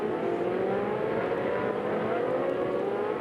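Race cars battling wheel to wheel at Hockenheim in a Pirelli one-make series, a steady dense roar of engines at constant loud level, held high through the whole short stretch with no talk.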